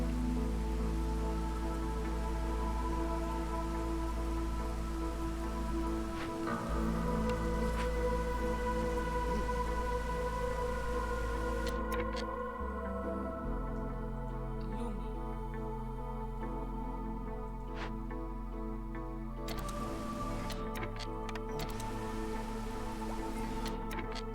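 Steady rain falls during a storm in the video game Against the Storm, a constant soft patter under droning game music and tones that shift every few seconds.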